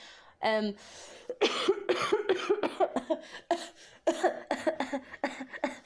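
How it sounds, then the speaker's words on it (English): A person coughs several times in quick harsh bursts, close to the listener, with speech mixed in around the coughs. "Excuse me, I have a cough."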